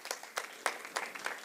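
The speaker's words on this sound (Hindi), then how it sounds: "एक बार जोरदार तालियां" Audience applause for actors at a nautanki theatre festival, faint scattered claps in a loose rhythm, several distinct bursts spaced out over a moment.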